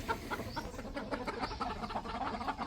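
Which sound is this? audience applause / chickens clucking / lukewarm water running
chickens clucking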